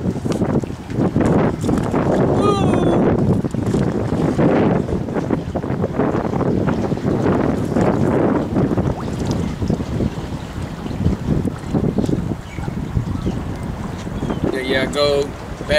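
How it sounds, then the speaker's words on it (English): Strong wind roars steadily against the microphone while bass fishing on Lake Toho, loud and constant throughout, with water and brief voices mixed in. "New day, windy as hell"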